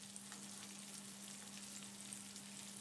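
Prawns fry in hot oil over a medium-low flame, giving a faint, steady sizzle with light crackles and a low hum underneath, with no talking.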